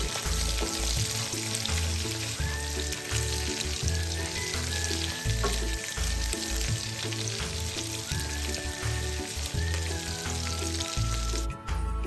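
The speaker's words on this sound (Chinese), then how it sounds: "再将备好的花肉一起倒入煸炒，将花肉内部油分再逼出一些" Pork belly stir-fries in a wok, a loud continuous sizzle of rendering fat with the rhythmic scrape and toss of a spatula throughout.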